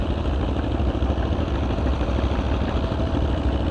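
Tractor engine labouring steadily under load while pulling a plow through a field, a continuous low, rough drone with no pauses and no talk.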